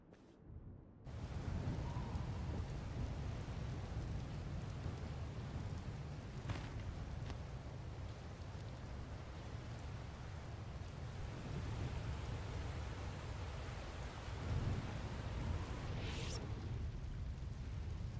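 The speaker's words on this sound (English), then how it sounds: "a fierce storm coming our way" A fierce video game storm roars in after a moment of silence, with steady heavy rain and a deep rumbling wash of thunder that holds throughout, plus a couple of sharper cracks along the way.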